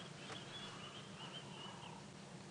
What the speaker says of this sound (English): Listening to all the birds